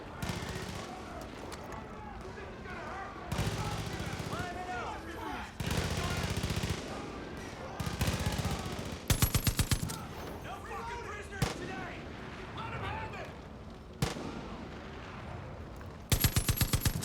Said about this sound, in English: I'm on the machine gun.